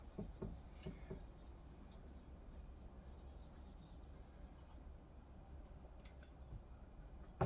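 Quick rag wipe with brake cleaner over an engine part on a Yamaha SRX600 motorcycle, giving soft close rubbing and scratchy strokes over a low background hum.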